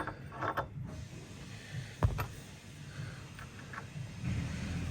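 A set screw on the handwheel of a sewing machine is loosened, giving faint, close metallic creaks and a few sharp clicks against a quiet background.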